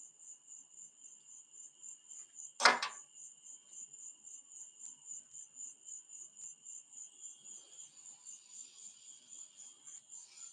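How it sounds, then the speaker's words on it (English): Crickets chirping at night in the American South, a high pulsing trill repeating steadily throughout, with a single sharp knock partway in and faint low murmurs underneath. "You hear them crickets."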